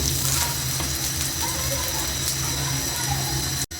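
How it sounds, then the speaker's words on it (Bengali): Half of a beaten egg frying in oil in a pan, a close steady sizzle and crackle that cuts off abruptly near the end. "ডিমের অর্ধেক ভাগ করে ভেজে নেব।"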